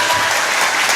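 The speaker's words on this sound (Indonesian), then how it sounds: "Tepuk tangan." Dense, loud applause from an audience at an evening Islamic study gathering, hands clapping steadily for the whole short burst with no pause.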